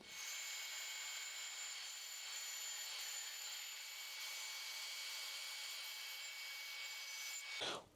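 A bandsaw cuts through oak for an end grain cutting board, a continuous rasping blade-on-wood hiss that stays even from start to stop, with no talking.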